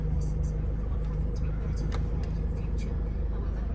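A Mercedes-Benz Sprinter 314 CDI van with a 2.1-litre 141 PS diesel idles just after starting, a steady, close, low rumble with no change in pace and a voice speaking over it.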